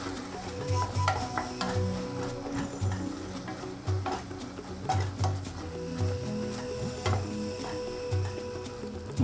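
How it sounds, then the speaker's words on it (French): A spoon stirring Cameroonian gourd-seed and mushroom sauce in a cooking pot, giving repeated soft scraping strokes against the pot with a low sizzle underneath, steady and close, no talking. "Pour éviter que ça colle en dessous, il faut tourner,"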